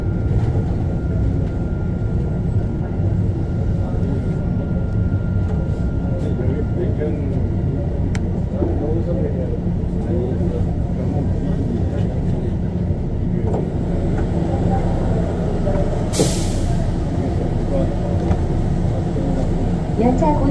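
Sillim Line light rail train, SL1013 set 10, running from Saetgang toward Gwanaksan, with a steady low rumble and hum of wheels and motors throughout and faint background voices in the carriage.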